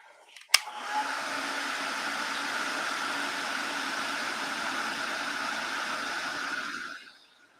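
A hair dryer blows steadily for about six seconds over wet Inktense colouring on a page, starting with a click and a rising whoosh, then holding an even, moderately loud hum before cutting off.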